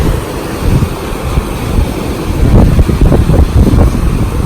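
Strong wind buffets the microphone over rough ocean surf on a Florida beach during Hurricane Michael, a loud continuous roar with crashing wave surges building toward the end.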